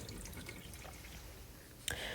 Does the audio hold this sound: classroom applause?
no